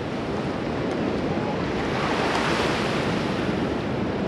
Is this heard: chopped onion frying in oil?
no